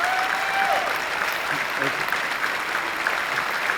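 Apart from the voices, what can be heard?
audience applause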